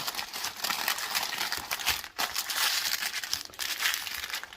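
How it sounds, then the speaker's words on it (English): Parchment paper crinkling and rustling as it is folded around a brisket jalapeno hot dog with green chilies, a steady close crumpling texture with a brief pause midway. "Got some parchment paper here. We're just going to lay that right here. Fold it up like a regular hot dog."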